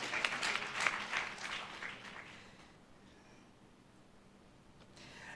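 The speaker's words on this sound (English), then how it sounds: "We can give the SEFA board a hand of applause." Audience applause at a national small-business and cooperatives summit, a short burst of clapping that fades within a few seconds into quiet room tone.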